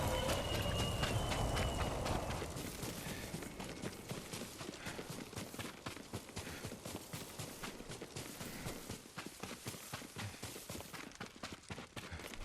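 Horse hooves clip-clopping in the Ghost of Tsushima video game, a steady run of quick, evenly spaced hoofbeats close by that continues under a soft ambient bed after a louder opening swell.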